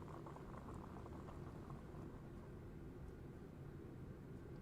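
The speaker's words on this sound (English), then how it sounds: "I'll boil some water." Water boiling in Genshin Impact makes a quiet, steady bubbling and rolling simmer, a soft continuous wash with faint popping that stays even throughout, heard alone without talk.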